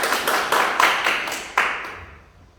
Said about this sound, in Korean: 다시 박수 한번 치겠습니다